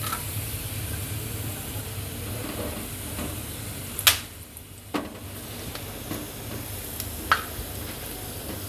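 A few whole black peppercorns fry in hot oil for a dal tarka: a soft, low sizzle with light stirring and a handful of sharp clicks and pops scattered through it, quiet and close.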